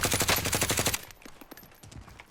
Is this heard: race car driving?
no